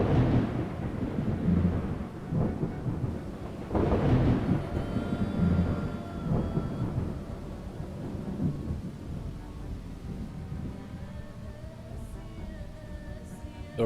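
Rain hisses steadily in the Project Zomboid video game while thunder rolls in two heavy rumbles early on, then fades into continuous soft rainfall.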